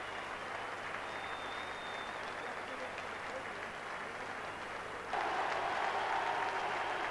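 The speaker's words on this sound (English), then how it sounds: "Terry Venables enjoying the applause and the appreciation of the crowd" Football stadium crowd applauding at the end of the season's last day, a steady broad wash of clapping from a large crowd that swells louder toward the end, with a commentator talking over it.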